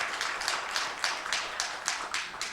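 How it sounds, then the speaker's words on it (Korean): Congregation applauding during a Sunday worship service at a church, a steady burst of rhythmic hand claps at moderate distance with no talking over it. "하나님께 영광의 박수를 크게 돌립니다"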